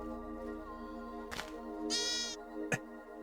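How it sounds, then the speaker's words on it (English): A baby sheep bleats in a video game, a short high wavering cry near the middle over a steady game music hum, bracketed by two sharp percussive hits. "Oh, a baby sheep."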